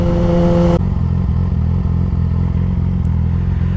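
A 600cc sport motorcycle built for the track runs steadily with a loud, close, continuous low engine drone, a brief higher tonal note at the start before settling into an even rumble.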